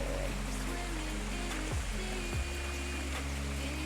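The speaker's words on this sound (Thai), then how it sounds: "ก็จะเป็นวิวตรงนี้ก็จะทำเป็นน้ำตกนะคะ" Steady rushing and splashing of water from an artificial waterfall in a cafe garden, a continuous wash of sound with no talking over it.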